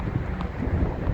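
Wind buffets the microphone in a constant low rumble at an outdoor tennis game, with no other distinct sounds.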